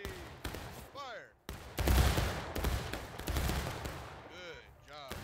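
A Confederate firing line lets off a ragged musket volley in War of Rights, with loud, dense crackling shots filling several seconds after a single shouted command. Officers' shouts come before and after the volley.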